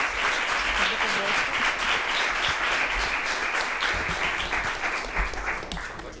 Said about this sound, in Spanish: damos un gran aplauso al ponente por su intervención